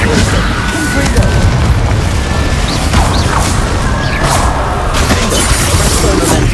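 A Confringo explosion spell in Hogwarts Legacy bursts with heavy booming blasts and crashing debris, layered with whooshing spell effects in a loud, continuous combat mix.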